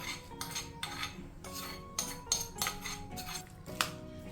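A spoon clinks and scrapes against a bowl while mixing onion pickle, a series of sharp, close metallic taps and stirring sounds, fairly quiet and irregular.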